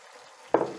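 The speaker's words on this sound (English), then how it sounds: "we're just going to fry this off for about a minute," Curry paste hits a hot pan for a Massaman-style root vegetable curry, starting with a sudden loud sizzle that settles into a steady hiss under near silence.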